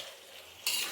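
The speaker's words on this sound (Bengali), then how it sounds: "চিকেনটা এদিকে সমস্ত যে মশলাগুলো আমার বেটে রাখা ছিল সেগুলোই দিয়ে ভালোভাবে কষিয়ে নিলাম" Chicken cooked down with ground spice paste in a pan, a faint steady sizzle that grows louder and brighter near the end, no voices.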